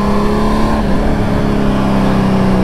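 A motorcycle engine revs steadily and loudly up close, a dense continuous roar with a shifting pitch and no speech over it.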